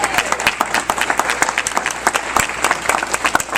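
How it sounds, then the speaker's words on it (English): A crowd at a San Jose event applauds the sound engineer, with sharp individual claps standing out over a looser, moderately loud patter. A few whoops and murmurs mix in. "Can we give him a round of applause?"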